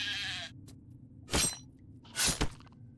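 A few short sheep bleats sound on a farm in the video game Craft The World, sparse and isolated with brief pauses between calls against a quiet low background.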